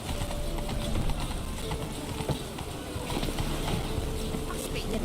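Hooves of the horse Roach clip-clopping in the fantasy game The Witcher 3, a steady soft trotting rhythm under ambient noise, partly masked by voices talking.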